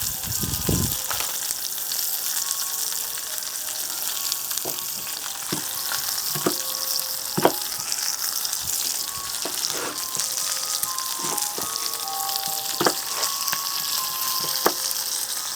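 Pork chop frying on a coal shovel, with an onion nearby, gives a steady bright sizzle and crackle throughout, broken by sharp pops and spits, close and fairly loud with no voices.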